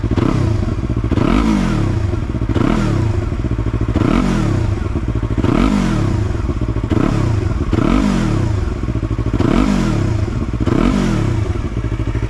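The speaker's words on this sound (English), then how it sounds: "give it a little rev" A Yamaha R3 motorcycle with an Akrapovic slip-on exhaust revs about nine times in a steady rhythm, each throaty rise and fall loud and close. No voices are heard.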